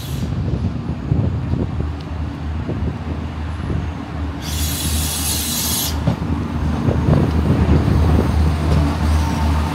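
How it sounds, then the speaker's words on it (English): A DART electric commuter train at a Dublin railway station on the Dublin–Greystones line gives a steady low rumble throughout, broken midway by a loud burst of hissing air lasting about two seconds, with no talk. "So I'm waiting for a train now"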